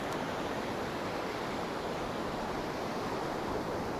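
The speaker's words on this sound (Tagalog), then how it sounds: "Ayan, no? Malaki na alon." Big ocean waves at San Fernando beach in La Union make a continuous, even wash of surf noise, steady and moderately loud with no distinct breaks or voices.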